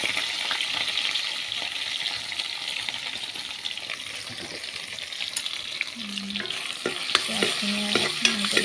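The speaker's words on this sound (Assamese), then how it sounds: "পিঁয়াজখিনি জলকীয়া আদা নহৰু নিমখখিনি ভাজি দিছোঁ" Onion, chilli, ginger and garlic fry in hot oil with a steady, close sizzle, later joined by scattered scrapes and clinks of a utensil stirring in the pan.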